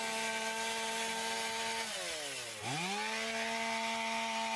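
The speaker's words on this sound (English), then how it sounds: "the sawyer then makes a bottom cut, working towards egress and rolling the middle rafter" Chainsaw cutting through a roof rafter while venting a louver opening, a steady high engine whine that dips as the chain bogs in the wood and then recovers to full speed, close and continuous.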